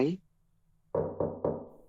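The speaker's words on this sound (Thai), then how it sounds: "เคาะสามครั้ง แล้วถามว่าฮานาโกะซังอยู่ไหม" Three quick, evenly spaced knocks on a toilet stall door on the third floor of a Japanese school, close and hollow, following a brief cut-off voice.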